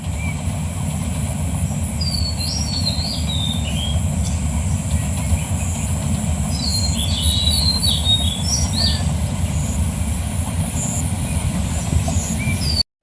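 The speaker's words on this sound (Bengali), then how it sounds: "আস্তে আস্তে ট্রেনের গতি কমে যাইতেছে" A slowing train rumbles steadily along close by, its low roar constant throughout while birds chirp in brief bursts above it.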